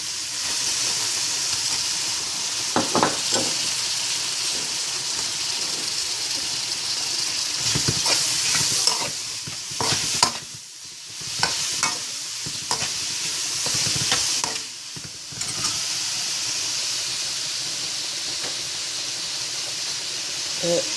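Lima beans are stirred into tri-tri and salt cod frying in a pot for Haitian djon djon rice, giving a steady sizzle with repeated scraping and clattering stir strokes, fairly close and with no talking.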